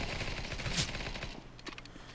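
Gunfire in the video game Counter-Strike: Global Offensive, a burst of rapid shots over busy game noise, loudest in the first second and then fading into quieter background sounds.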